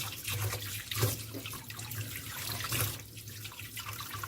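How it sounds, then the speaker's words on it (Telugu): Chicken leg pieces rinsed under a running kitchen tap, water splashing and gurgling steadily up close with a few sharper splashes as the pieces are handled. "నేను దీన్ని బాగా శుభ్రంగా కడిగేసుకుంటున్నాను నీట్గా."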